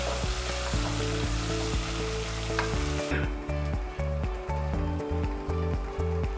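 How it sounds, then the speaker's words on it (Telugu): Onions and green chillies fry in a hot pan with a steady loud sizzle, broken by rhythmic scraping stirs as the mixture is moved around, close and continuous. "గ్రీన్ చిల్లీ, ఆనియన్స్ వేసుకొని గోల్డెన్ కలర్ వచ్చేంత వరకు ఆనియన్స్ని ఫ్రై చేసుకోవాలి."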